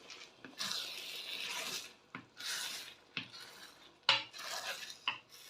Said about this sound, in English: It's time to stir up the eggs into the stew.